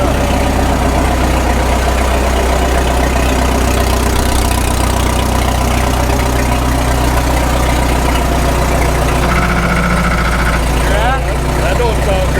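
A 1936 Caterpillar Twenty-Two tractor engine runs with its clutch failing to release, a loud continuous low rumble with steady knocking pulses, while people talk over it.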